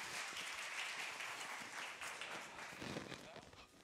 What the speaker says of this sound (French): Vous pouvez l'applaudir, bravo.